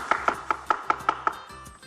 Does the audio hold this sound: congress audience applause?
no